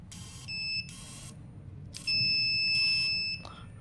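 An electrical megger insulation tester beeps with its leads shorted, sounding loud, sustained electronic tones in bursts with gaps between, close up over a faint background.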